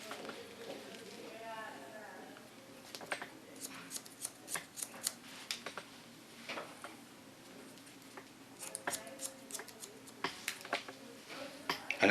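Scissors snip through medium-long curly hair at a salon, the blades cutting layers in a rounded line. The snips come as short, sharp, irregular clicks, close by, with quiet talk around them.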